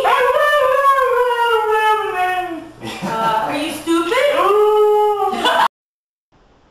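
A dog howls and whimpers up close in long, wavering, falling cries, pausing briefly and then resuming before stopping abruptly; a person speaks over part of it.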